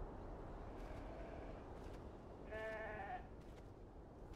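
Sheep bleating in the video game Beyond Two Souls, one clear drawn-out bleat mid-clip over steady outdoor ambience, with fainter distant calls around it.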